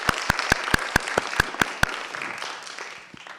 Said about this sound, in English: Let's give another round of applause for all of our writers, our players, for Jerry,